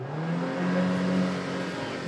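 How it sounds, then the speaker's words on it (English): A car engine revs in a steady, sustained drone that swells slightly and eases back, moderately loud with no voices over it. "He's revving it like crazy."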